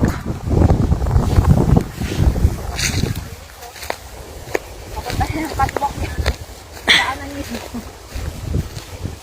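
Strong gusting wind buffets the microphone on a mountainside where a wildfire is spreading through silver grass, with roaring, uneven rushes throughout and a person talking over it.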